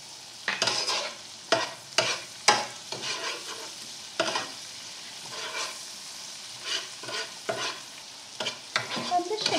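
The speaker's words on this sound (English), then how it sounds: "so that can start browning as the butter is melting" Minced garlic frying in melting butter in a pan, a soft steady sizzle broken by repeated scraping stirs, fairly close with no talking.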